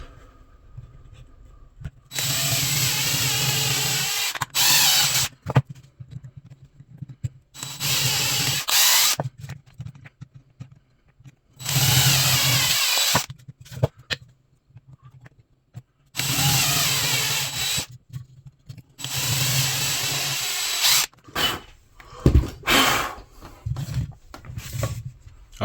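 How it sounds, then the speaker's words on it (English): A power drill pre-drills holes in the top of a wet-molded leather magazine belt holster in several loud bursts, each lasting a few seconds, with quiet pauses between them. "Let's go ahead and get these pre-drilled."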